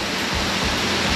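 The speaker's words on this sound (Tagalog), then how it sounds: "Kaya sometimes ganito lang yung flow ng water." Water at a mountain resort waterfall with a man-made lake rushes in a dense, steady roar, loud and close, with no voices over it.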